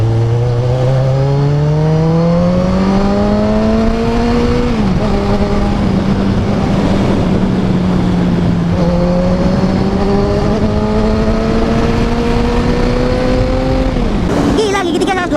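Loud 2013 Kawasaki Z1000 motorcycle engine accelerating hard through the gears, its pitch climbing steadily and dropping sharply at each upshift, near and continuous, with a rider talking excitedly over the noise.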